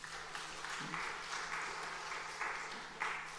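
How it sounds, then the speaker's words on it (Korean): Faint applause from a church congregation, a soft steady patter of many hands with a low hum underneath, lasting a few seconds. "박수 한번 쳐드리세요."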